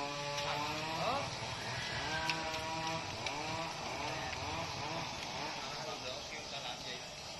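A G4500 chainsaw cutting a large dipterocarp tree near a market: a continuous, fairly faint engine drone with a buzzing rasp runs throughout, heard under speech.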